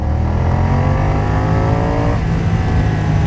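A 2020 BMW F900R motorcycle, restricted for the A2 licence, pulls hard in second gear around 4000 rpm: a close, loud engine note rises steadily, then drops sharply as the throttle eases near the end.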